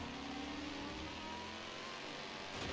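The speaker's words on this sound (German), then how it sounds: "Der V10-Motor klingt schon geil." A V10 race car engine in Forza Horizon 4 drones steadily at high revs, faint and continuous, with a slight rise in pitch near the end.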